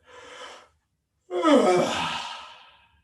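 A person yawning: a short breathy inhale, a brief pause, then a longer, louder open-mouthed exhale that trails off slowly.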